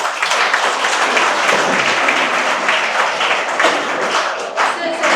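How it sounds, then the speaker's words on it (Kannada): An audience applauds at a college function with dense, sustained clapping that holds at a loud, even level the whole way through, a full hall of hands without a break. "ನಿಜವಾಗಿಯೂ ನಾನು ಚಪ್ಪಾಳೆ."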